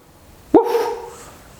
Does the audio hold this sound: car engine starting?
no